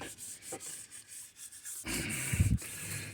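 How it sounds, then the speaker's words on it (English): Soft rubbing strokes of hand sanding a part from a 1957 Chevy Bel Air, scraping back and forth a few times, then a louder, coarser burst near the end. "There's nothing here that's preventing me from sliding it back and forth, sanding it."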